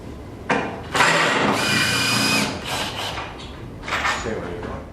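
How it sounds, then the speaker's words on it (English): Power drill boring holes into timber to mount an awning bracket, with a loud, close whirring burst lasting a few seconds that rises, dips and returns near the end. "you drill your holes, and you fix your bracket"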